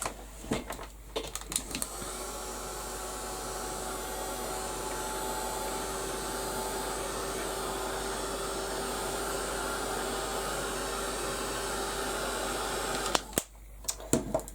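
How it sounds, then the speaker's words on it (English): A heat gun blows hot air onto a craft canvas in a steady, close whooshing hum with a faint tonal whine, switched on with a few clicks and running for over ten seconds before cutting off. "I'll just give that a quick blast with the heat gun"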